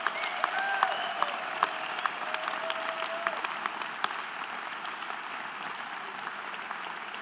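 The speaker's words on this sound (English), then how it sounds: "A huge round of applause to all of our winners one last time" An arts awards audience gives its winners a sustained round of applause, with sharp claps standing out early before settling into a softer, even patter.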